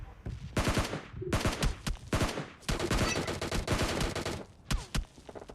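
Gunfire in the mobile shooter PUBG Mobile Lite: rapid bursts of automatic shots in several clusters, close and fairly loud, with a few single cracks between volleys.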